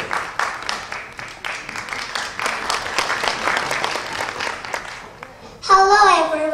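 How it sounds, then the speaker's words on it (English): Audience applause for a first-grade girl from Mogam Elementary School at a Korean culture performance at MtSAC college: dense, steady clapping for about five seconds, fading before a loud tonal sound with sustained pitches takes over at the end. "Give her a big applause"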